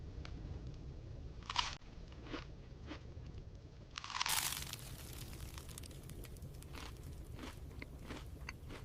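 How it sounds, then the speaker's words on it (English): A crispy corn tlayuda gives a few loud, close crunches as bites are taken, separated by quieter chewing and light scraping in a quiet room. "The crunch is first. That structural corn crunch."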